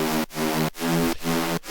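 A thick, low synth bass hits three times in a steady rhythm, each long note overlaid with a hiss of white noise and separated by brief gaps.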